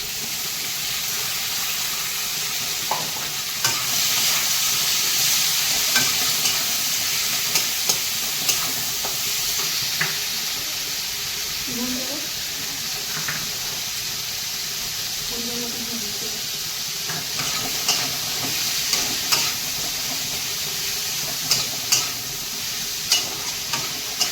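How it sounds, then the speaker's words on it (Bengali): Onion, capsicum, carrot, green chili, coriander leaves and potato frying together in a pan, a constant loud sizzling hiss with scattered utensil clicks and scrapes throughout, near and without talk. "যা যা উপকরণ আছে সব একসঙ্গে দিয়ে ভেজে নেব ক্যাপসিকাম গাজর কাঁচা লঙ্কা ধনিয়া পাতা আলুতে সব"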